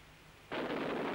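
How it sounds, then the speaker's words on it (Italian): A thunderstorm with rain bursts in abruptly after a quiet half-second, becoming a loud, steady broadband roar of downpour and rumble that holds to the end. "Senti che temporale."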